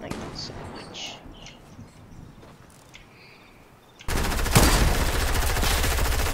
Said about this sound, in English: Oh, are you firing?